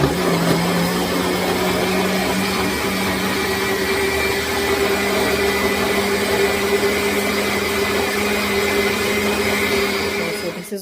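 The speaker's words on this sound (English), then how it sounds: "Time to push that button." A Ninja blender running continuously at full power, a loud steady motor whine with a constant hum that holds for about ten seconds before cutting off.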